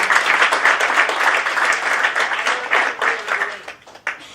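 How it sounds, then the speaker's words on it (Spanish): A church congregation applauds the Lord with loud, dense clapping that runs steadily for several seconds before thinning out near the end. "Un aplauso al Señor."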